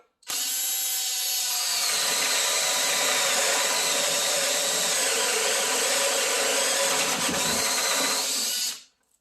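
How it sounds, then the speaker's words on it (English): Power drill boring a cabinet hinge hole through a jig: one continuous loud, high whine held steady for about eight seconds, close up and alone. "So I got my hole drilled."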